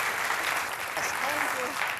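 A studio audience claps to welcome contestant Kamayani Sharma on the Hindi game show Wheel Smart; brief, dense applause that carries on steadily with a faint voice underneath.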